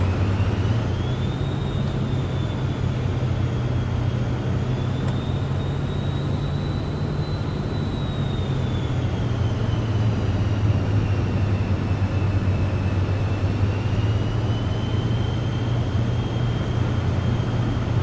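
Cirrus Vision Jet taxiing to the runway on Catalina Island in Microsoft Flight Simulator 2024, a steady engine hum with a high turbine whine that rises and falls gently, heard close and alone throughout.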